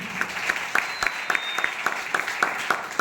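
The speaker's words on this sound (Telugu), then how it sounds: "సంతోషంగా నాకు చప్పట్లు కొట్టి దేవుని స్తుతిద్దాం." A church congregation claps hands in praise with steady rhythmic beats, about three claps per second, moderately loud in a reverberant hall.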